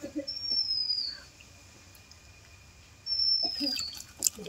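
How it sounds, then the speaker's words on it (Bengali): A myna bird bathing in a cold pond, with two bursts of soft water splashing and fluttering separated by a quiet gap, while thin whistling bird calls ring out over each burst. "সুন্দরবনের শালিক পাখি টুসু কিভাবে পুকুরে স্নান করছে দেখো"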